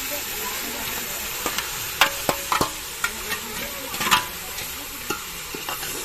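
Freshly washed vegetables are stirred in a hot frying pan, with a steady sizzle broken by sharp spatula scrapes and clacks against the metal, close up and fairly loud.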